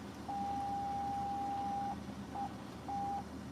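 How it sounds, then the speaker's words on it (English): An electronic beeping alert sounds during a road trip, one long steady tone followed by two short beeps, moderately loud over a low vehicle rumble. "It can't stop beeping."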